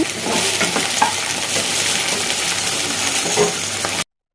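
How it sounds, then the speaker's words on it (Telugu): Cut okra fries in hot oil with a steady, loud, close sizzle and occasional stirring scrapes, continuing without pause until it cuts off abruptly near the end. "బెండకాయలను అయితే కొంచెం కట్ చేసేసి ఇలా ఆయిల్లో ఫ్రై చేసేసుకుంటున్నాను"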